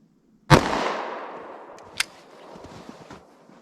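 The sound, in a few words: gunshot from Gold Dot 9mm short barrel pistol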